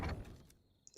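A door thuds heavily and slides, a single low muffled bump that fades, followed by a few faint light ticks.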